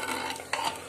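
Spices frying in a pan for a green chickpea curry, a continuous sizzle with stirring scrapes and a sharp clink near the middle, close and moderately loud.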